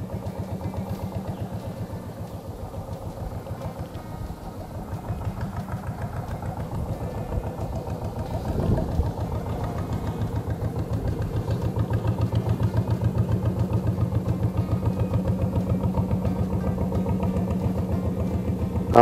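A small boat's engine idles and chugs steadily on a narrow rocky river, a constant mid-pitched motor throb with clattery texture holding for the full length at moderate loudness, no voices over it.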